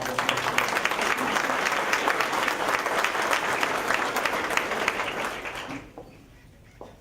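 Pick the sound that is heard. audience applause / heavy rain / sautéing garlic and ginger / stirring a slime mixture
audience applause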